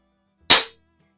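A single sharp, close report from a CO2 replica single-action revolver cracks once and fades quickly into silence.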